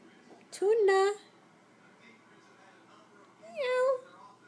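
A cat meows twice while begging for tuna, a drawn-out call near the start and another near the end with a quiet pause between, close and clear.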